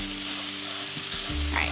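Sausage sizzling and frying in a pan for sausage gravy, a close steady crackle with faint stirring toward the end and no speech.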